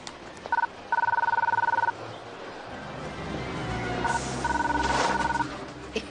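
An old-style telephone bell rings at close range in a French indoor scene. It gives two bursts of rapid ringing, with faint background noise and a brief murmur of talk between the rings.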